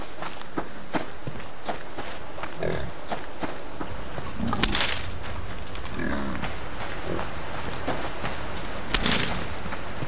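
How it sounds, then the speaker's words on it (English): Pig grunting in the survival video game Subsistence, low snorts and grunts scattered among footsteps and heavy thuds, fairly close, with no talking. "Get out the way, pig."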